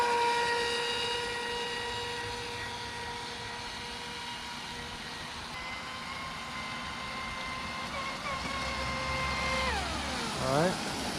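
A Traxxas Disruptor RC car's electric motor whines at top speed, a sustained high tonal drone that fades with distance, then sweeps sharply as the car turns near the end, with people talking quietly.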